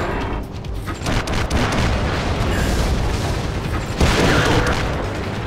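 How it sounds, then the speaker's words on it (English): Artillery shells exploding in World of Tanks, a deep booming rumble rolling continuously with a fresh heavy blast near the end, loud and close. "That was artillery. There's another one."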